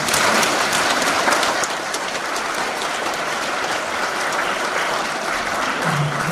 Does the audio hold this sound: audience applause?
yes